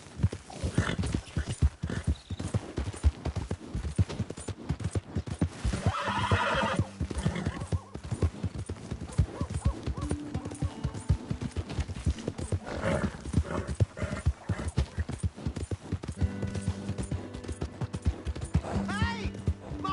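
Horse hooves galloping and occasional neighing in the Red Dead Redemption 2 video game, clip-clops running steadily throughout under game music and effects, with voices speaking at times.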